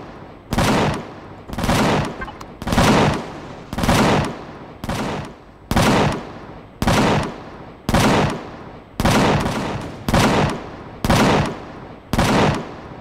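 Cannon fire from a turret in the space survival game Empyrion Galactic Survival: a dozen loud, evenly spaced booming blasts, each a broad burst with a short decay, repeating about once a second with no talk.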